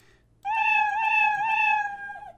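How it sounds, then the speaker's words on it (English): A cartoon cat meow sound effect from a Scratch 3.0 game plays once, a single clear, drawn-out meow lasting about two seconds, loud and close with no talking. "It just plays the meow sound and keeps going as fast as it can"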